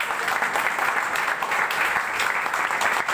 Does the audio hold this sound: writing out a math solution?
no